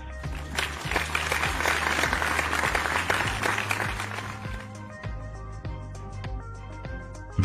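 A church congregation applauds loudly and continuously, a dense wash of many hands clapping that gradually thins and fades, with instrumental music playing underneath.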